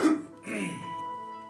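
A single short cough, close and fairly quiet, followed by a brief throaty voiced trailing sound.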